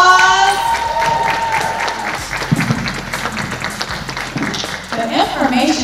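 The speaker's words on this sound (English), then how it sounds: "let's give them a round of applause" An audience at a marketing conference panel applauds as guests come up, with sustained clapping and some cheering, while a host talks over it with music playing underneath.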